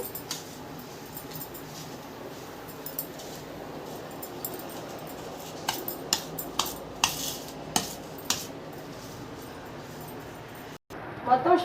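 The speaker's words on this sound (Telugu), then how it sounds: "షుగర్ పౌడర్ అనేది మనకు ఈ రవ్వలో కలిసిపోయినట్టుగా కలిపేసాను నేను మొత్తం స్పూన్తో" A spoon mixes semolina with powdered sugar for ghee rava laddu, giving a soft gritty scraping at first, then a run of light clinks against the bowl, fairly quiet and close.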